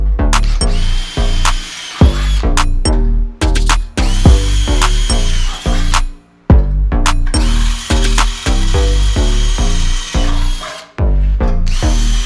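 A power drill bores out and widens holes in a metal truck bumper, running in loud, steady bursts with brief pauses and restarts, close up and alone without talk.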